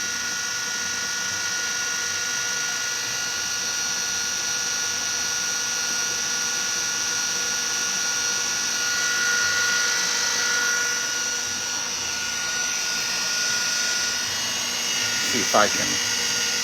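Cream churning into butter in an electric mixer, a steady loud whirring drone running throughout, with a brief voice near the end.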